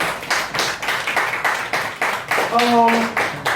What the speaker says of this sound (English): Please give Taye a round of applause.